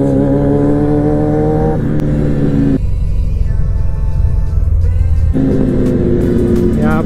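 A loud Kawasaki ZX10R motorcycle engine roars and revs on the road, its pitch rising and dropping through throttle changes, very close and continuous throughout.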